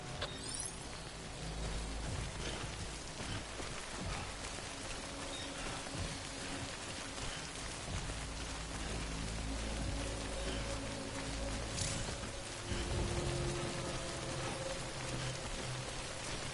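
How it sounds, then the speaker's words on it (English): Timefall rain in Death Stranding, a steady dense patter of drops on surfaces lasting throughout, with faint mechanical clicks and ratcheting mixed in beneath. "Good thing it was raining."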